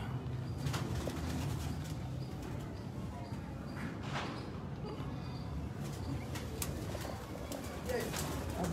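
Pet pigeons coo steadily at a loft amid constant outdoor background noise, with soft bird calls repeating throughout and occasional knocks.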